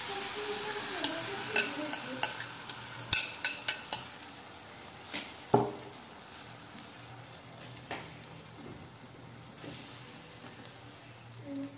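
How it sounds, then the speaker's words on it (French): Beaten egg mixture cooks on low heat in a covered frying pan, making a soft, continuous sizzle; clustered light clinks and taps from the pan and utensils break in early, then the sizzle runs on alone. "Je verse le mélange dans cette poêle, je le laisse cuire à petit feu, à couvert"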